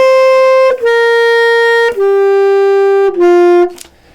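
Single sustained instrumental notes from measures 6 and 7 of The Riddle Song, played slowly one at a time in a woodwind, brass and mallet lesson: four clear held tones, each stepping to a new pitch, ending in a short release.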